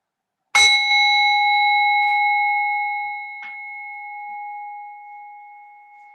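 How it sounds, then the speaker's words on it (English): A single meditation bell struck once at the close of a yoga session, a clear bright ring that sustains and slowly fades, alone in silence. "In a moment, you'll hear the sound of the bell."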